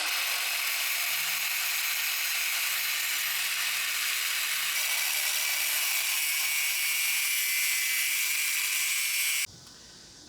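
A cordless angle grinder cuts steel with a steady, loud high-pitched whine that holds for about nine seconds before abruptly cutting out, no voices over it.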